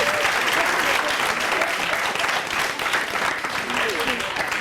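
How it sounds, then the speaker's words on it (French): Dense, sustained applause from a studio audience on a Burkina Faso talk show, loud and steady throughout, with a voice murmuring faintly underneath. "On va les applaudir s'il vous plaît"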